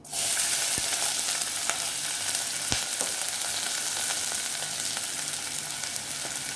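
Chopped onion sizzles in about a tablespoon of oil, a steady, close, crackling fry with faint stirring scrapes and no voices.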